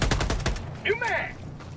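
Gunfire in the co-op shooter game Helldivers, a quick burst of loud shots up front, then a bright synthetic chirping game effect as the shooting stops.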